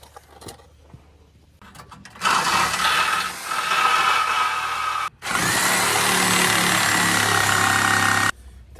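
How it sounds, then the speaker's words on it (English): A corded Sawzall reciprocating saw cuts through bolts in two loud bursts of harsh buzzing, with a short break between them and quiet clicks before and after. "It's hard to outwork a sawzall with a cord."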